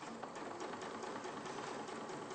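A sewing machine runs a short stitch length along the edge of quilting fabric, guided by the presser foot, in one steady, close, unbroken whir with no talk.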